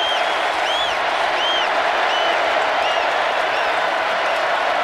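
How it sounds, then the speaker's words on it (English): A dense, steady roar from a packed stadium crowd at the 2019 LSU vs Alabama college football game, loud and continuous throughout. "Now the crowd into it"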